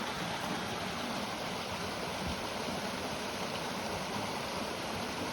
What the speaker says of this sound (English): Nice swimming hole, beautiful falls.